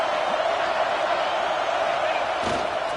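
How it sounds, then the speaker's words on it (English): A stadium crowd at a football game near the goal line roars in a steady, loud wash of cheering that holds throughout, with a brief burst of extra shouting near the end. "And the crowd really making some noise now"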